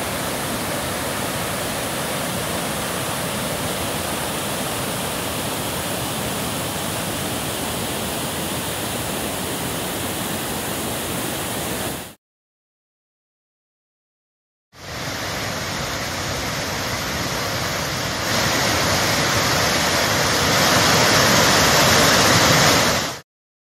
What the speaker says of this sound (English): More of Evolution Creek. It seems to run alongside us for miles.